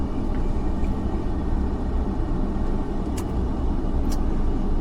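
Cars on the road behind rumble as a dense, steady low roar of passing traffic, continuous and fairly loud without clear gaps between vehicles.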